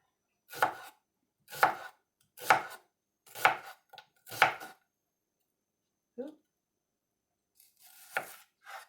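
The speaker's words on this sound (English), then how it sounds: "Cut it in half, and then just chop like this." A knife chops through fruit slices on a cutting board in a homestead kitchen: five crisp, evenly spaced chops, a faint tap after a pause, then a final softer cut, each loud and close with silence between.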